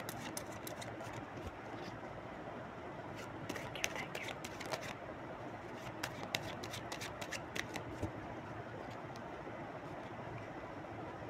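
Tarot cards riffle in quick bursts of papery shuffling that sit over a constant low droning background, close by.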